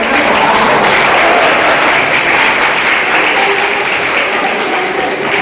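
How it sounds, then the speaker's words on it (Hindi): An audience claps together at a college freshers and farewell party, a loud, dense and continuous roll of hand claps that stays even throughout, with no voices standing out above it. "आप लोग तालियां बजाइए।"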